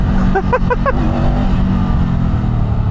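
Honda CL500 motorcycle engine, a loud steady idle close by with a brief blip of revs near the start and no talk.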